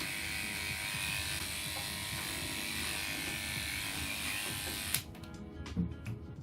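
Electric clippers trim the underside of a poodle's tail with a steady, close buzzing hum that runs without a break for about five seconds, then cuts off, leaving faint handling noises.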